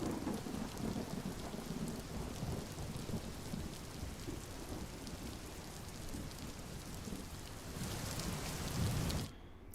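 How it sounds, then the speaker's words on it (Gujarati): Sudden rain after sultry heat in the Deesa area of Gujarat falls steadily in a broad, continuous hiss, with low rumbling beneath and a brief swell near the end before it cuts off. "બફારા બાદ અચાનક જ વરસાદ વરસવાનો શરૂ થઈ ગયો"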